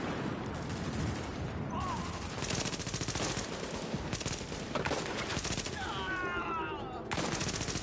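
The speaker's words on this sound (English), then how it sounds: "I'm basically just shooting through your arm at this point." Video game gunfire in The Division on PS4, a dense continuous rattle of automatic shots and bursts filling the whole stretch, with faint game effects layered in and no clear pauses.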